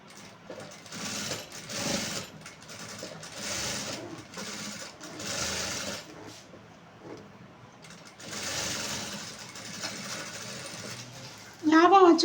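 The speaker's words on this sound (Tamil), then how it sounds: "அதில் 1 இன்ச்சுக்கு நீங்கள் ஒரு தையல் போட்டுடலாம்" A sewing machine stitching the patti piece of a blouse runs in several steady whirring bursts with short pauses between, close and moderately loud, while someone talks over it.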